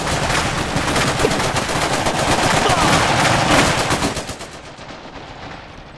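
Rapid sustained machine gun fire in the strategy video game Iron Harvest, a dense rattling burst of closely spaced shots lasting several seconds before cutting off and fading into echoing reverb.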